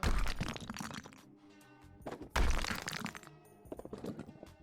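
Loud cracking, crunching smashes from a sledgehammer breaking through material in the game House Flipper, two strong hits with debris rattling afterward.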